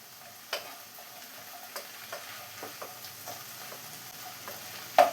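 Kerala-style payar thoran being stirred and mixed in a pan, with a low steady sizzle and a series of soft spoon-against-pan knocks at irregular intervals, the last one louder, no talking.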